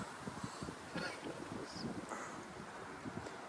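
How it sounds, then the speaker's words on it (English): Wind buffeting across an open golf course, a steady rushing roar with low gusty microphone rumble throughout, no clear voices. "A little bit of wind."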